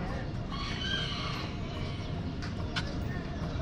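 Chickens cluck and a rooster crows inside a big coop, among peacocks and monkeys at Batu Caves, Kuala Lumpur, Malaysia, over a steady loud background hum with some chatter.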